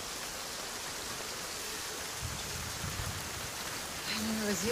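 Rain in a scene from the 2016 film Deadpool hisses steadily and evenly throughout, a soft continuous patter, with a faint voice near the end.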